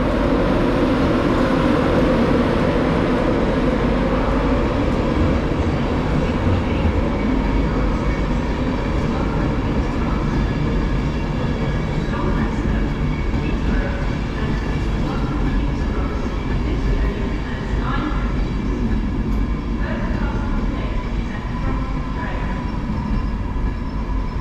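Class 91 locomotive 91109 rolls into Wakefield Westgate station with a loud, steady rumble and hum that holds close and continuous for about twenty-four seconds, with no clear talking over it.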